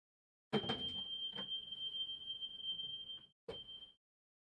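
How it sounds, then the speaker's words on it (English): A building fire alarm sounds during a test, starting with a few sharp clicks and knocks and then a steady, piercing electronic tone that holds for about three seconds, breaks briefly, and resumes before stopping. The alarm is heard nearby in a quiet room. "Oh shit, the fire alarm."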